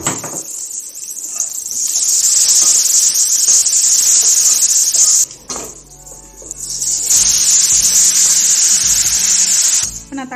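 Ginger garlic paste fries with onions in a pan, giving a loud, bright hissing sizzle that swells, dips briefly mid-way, then returns at full strength.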